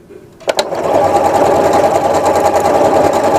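A sewing machine runs decorative star stitches, starting with a couple of sharp clicks and then settling into a steady, loud, close mechanical whir with no voices.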